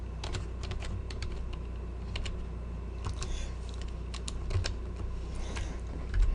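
Typing on a computer keyboard while writing C# code: a steady, close stream of light key clicks at an uneven rhythm, with occasional heavier key presses, alone with no talk.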